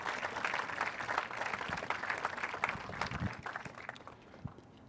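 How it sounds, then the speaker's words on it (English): Audience clapping at an award ceremony, rising to a moderately full patter of hands before thinning out toward the end, heard somewhat distant and without speech. "So let's give Tanya another round of applause for her work there."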